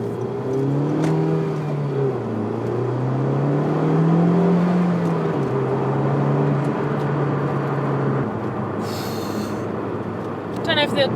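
A Milano Red 2016 Honda Civic Type-R with front-wheel drive accelerating hard on the road, its engine note rising and falling in a sustained, loud drone that runs beneath someone talking.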